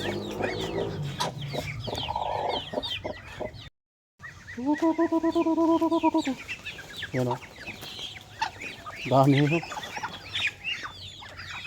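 Chickens cluck in a farmyard among ducks, with repeated short calls and a few longer drawn-out squawks, fairly close and loud, while a person speaks briefly over them.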